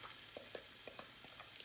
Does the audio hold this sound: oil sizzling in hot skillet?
yes